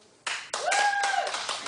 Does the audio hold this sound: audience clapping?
yes